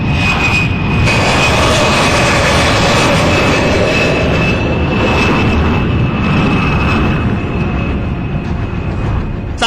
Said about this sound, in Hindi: दिखाता ये है हिंदुस्तान का सुखोई 30 लड़ाकू विमान।